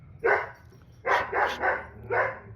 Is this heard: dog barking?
yes